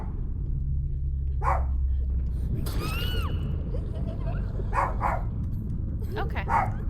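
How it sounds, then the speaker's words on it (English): A pet dog barks several times in short bursts, close to the microphone, over a steady low hum, with whimper-like yips in between. "My dog is barking."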